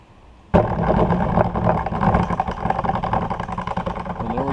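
A flight simulator shaker system driven by an SHKR-1 control board starts up: a sudden onset of loud, continuous mechanical rumbling and rattling vibration, sustained and steady after a quiet start.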